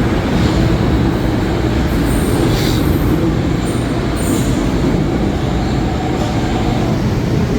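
A Rio de Janeiro metro train rumbles loudly and steadily throughout, with faint high wheel squeals breaking through now and then.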